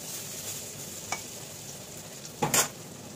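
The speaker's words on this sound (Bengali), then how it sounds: "এবার এই যে জিরে আর আদা বাটা দিয়ে দিলাম, এবার কষাতে থাকবো একটু।" Cumin and ginger paste frying in a pan for a light hilsa fish curry, a faint continuous sizzle with two brief scraping stirs of a utensil, the second louder, and no speech.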